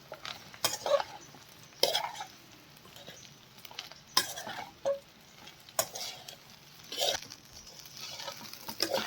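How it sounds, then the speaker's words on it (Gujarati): Idli pieces tossed and mixed in a hot pan, with repeated sharp metal spatula scrapes and clanks against the pan over a soft sizzle, close and irregular. "ઇડલી એડ કરીશું અને બધી જ વસ્તુ ફટાફટ મિક્સ કરી લઈએ"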